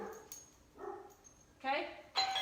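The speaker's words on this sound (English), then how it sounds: "I can still hear Frida barking in the back room." Faint, muffled dog barks from another room, a few short yaps, with louder higher-pitched barks near the end and some quiet talking.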